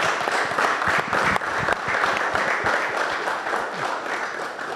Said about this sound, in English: If you have another round of applause in you, let's have it for Charles Mensah.